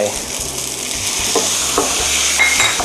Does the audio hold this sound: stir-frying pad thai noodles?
yes